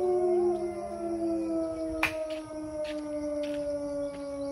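Several dogs howl together in long, sustained wailing tones that rise and fall like a siren, with a sharp knock partway through.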